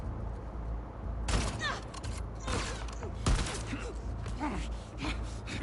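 Rifle gunfire in The Last of Us Part II: a few sharp, loud shots ring out at irregular intervals over a low, steady game ambience, with faint creaks and rustles between them.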